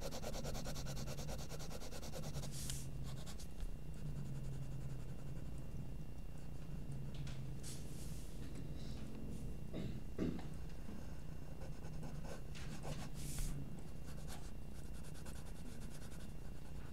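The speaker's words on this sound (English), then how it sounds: "So it's kind of shading the whole sketch there first" A graphite pencil shading a sketch makes a faint, steady rubbing hiss that runs continuously, with a few slightly louder scratchy strokes now and then.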